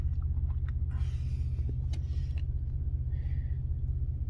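Chevrolet Blazer truck engine idling steadily after a distributor cap and rotor change, a deep, even rumble with a faint rhythmic pulse, close by and constant throughout with no talk.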